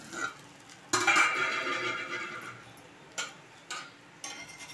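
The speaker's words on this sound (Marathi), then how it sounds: "तर 2-3 मिनिटं झालेली आहे, झाकण काढूया" A lid comes off a pan of rava dosa cooking on a stovetop with a sharp metallic clatter, releasing a burst of sizzling that fades. A few light clinks of utensils on cookware follow.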